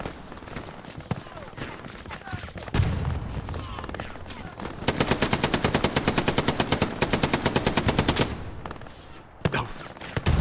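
Machine gun fire in the World War II shooter Hell Let Loose during a competitive match, with scattered shots early on and then a long, rapid, evenly spaced burst that is loud and close, with other gunfire around it.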